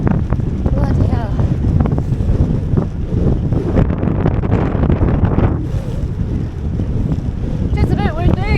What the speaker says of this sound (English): Just a bit windy.